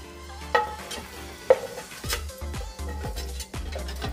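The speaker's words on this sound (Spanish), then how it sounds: "vamos a poner a dorar nuestra pechuga de pollo" Chicken breast sizzles and browns in a pan, with a steady frying hiss broken by a few stirring scrapes and clicks of a utensil against the pan.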